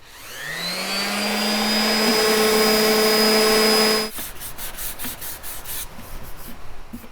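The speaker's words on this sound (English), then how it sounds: "and I'm gonna sand that down." An orbital sander with 220-grit paper runs on the wood of a 1940s/1950s RCA Victor radio cabinet, spinning up to a steady whine and then giving way to rhythmic scraping strokes.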